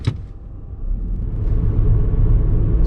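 A keyless entry car drives along with no key detected, giving a steady low rumble of engine and road noise that swells slightly and holds close and even throughout.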